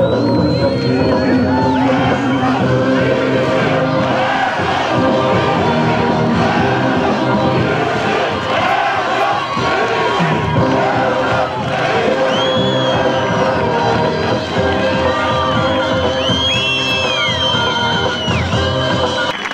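A large crowd at a Newroz rally in Dersim shouts together in loud, sustained chanting and cheering, with whoops and scattered voices rising over a dense, continuous roar.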